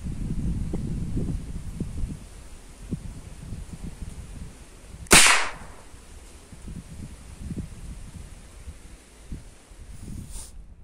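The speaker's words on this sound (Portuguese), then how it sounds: "então o primeiro disparo lá foi efetuado" A single sharp crack from a modified 5.5mm air rifle firing .22 ammunition, shot standing outdoors, stands out near and loud against steady wind and rustling, with a faint second snap later.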